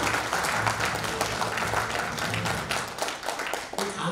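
Audience applause at a school baseball booster club year-end evening, a steady wash of clapping from a seated crowd, moderately quiet and continuous.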